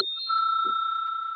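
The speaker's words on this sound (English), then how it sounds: "At the end of the 4th minute, the bell will be rung twice" A debate timing bell rings once, a clear bright ding that holds and slowly fades in a quiet room.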